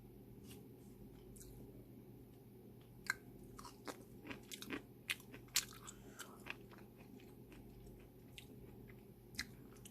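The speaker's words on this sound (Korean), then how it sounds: "고추 한번 먹어보도록 하겠습니다." A chili pepper is bitten and chewed close to the microphone, with soft scattered crunches and moist chewing clicks over a quiet room hum.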